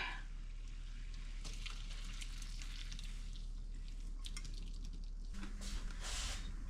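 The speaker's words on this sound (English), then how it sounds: "Let's pour it into the cake pan." Cake batter poured from a bowl into a cake pan in a home kitchen, giving soft wet dripping and squishing sounds over a steady low hum, close and fairly quiet.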